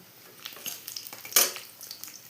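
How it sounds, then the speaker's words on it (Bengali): Fish frying in a pan in a home kitchen, a soft steady sizzle with occasional brief scrapes and clinks of a utensil against the pan, heard close and fairly quiet. "মাছ ভাজা হচ্ছে"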